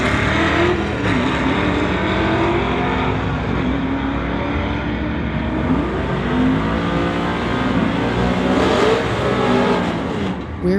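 A white Mustang and a Pontiac Phoenix in a street-legal drag race, a loud continuous engine roar with surging revs that rise and fall for about ten seconds, close and dense.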